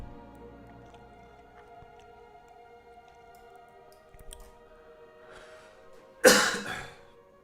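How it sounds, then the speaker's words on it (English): A single harsh dry cough bursts out near the microphone, loud against a quiet room with a faint steady hum and a few small taps beforehand. "I got like a dry cough here."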